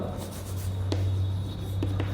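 Pen scratching across paper while a maths solution on triangle angles is written out, a few soft strokes over a steady low hum, close and fairly quiet.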